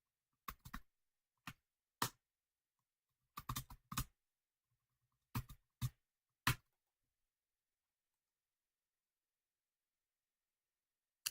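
Short bursts of computer keyboard typing click in quick clusters with pauses between them, close and fairly quiet, followed by several seconds of silence.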